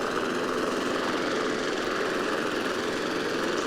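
A restored Murray 22-inch lawn mower engine runs at a steady, continuous drone, close and fairly loud, with no talk and no change in pitch or rhythm.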